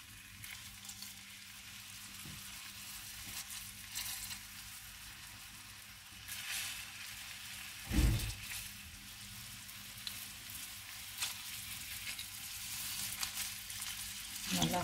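Onion sizzles steadily in a hot pan for Filipino salmon torta, a continuous soft frying hiss with occasional sharper spatters and a louder burst partway through.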